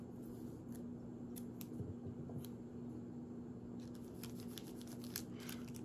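Double-sided tape handled and applied to a mini Halloween candy bar, a string of small close snips and crinkly clicks over a steady electrical hum.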